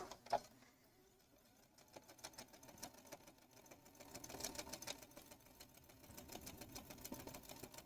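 Sewing machine stitching a Christmas table runner made from a kit, with a steady whirring, rapid needle rhythm that rises and falls as the fabric is guided, running close and continuous.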